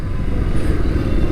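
A 2025 Bajaj Pulsar RS 200 motorcycle being ridden, its engine giving a steady, close low rumble throughout with no clear revving peaks, and no voices.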